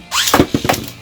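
Beyblade Burst spinning tops, Ultimate Valkyrie against Helios, collide hard in an arena: one sudden loud thunk followed by a quick run of sharp knocks, close up and with no talk.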